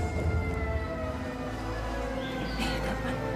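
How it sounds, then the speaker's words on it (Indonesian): An ambulance siren sounds continuously, a steady tonal wail with a rumbling background, with no talking over it. "Ambulan."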